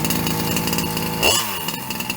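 A small 36cc two-stroke engine in a Rampage RC car, untuned and smoky during break-in, buzzes steadily at close range, then briefly cuts back with a falling pitch and sputters.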